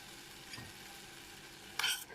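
Broccoli is stirred in a pan with melting butter, giving a faint frying hiss with a soft scrape and then one brief, louder stirring scrape near the end.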